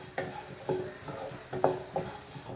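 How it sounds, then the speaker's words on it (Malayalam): Rice frying in butter in a pan, stirred in a steady rhythm of about five scraping strokes over a soft continuous sizzle, close and fairly quiet, with no talk. "ഇപ്പൊ കണ്ടില്ലേ, റൈസ് ഒന്ന് ഫ്രൈ ആയിട്ട് വന്നിട്ടുണ്ട്"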